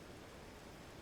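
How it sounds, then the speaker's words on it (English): Steady, dense rain falls in a fantasy scene from the card game Shadowverse: Worlds Beyond, an even wash of hiss with no breaks across the short stretch and no other sound on top. "It's raining here."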